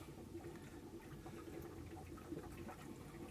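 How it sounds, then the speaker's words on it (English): Water draining from a boat's hot water heater through an opened valve into the back bilge, a soft continuous trickling and gurgling close by. "You can hear it coming out, and that pretty much just goes over to the back bilge and comes out the drain hole"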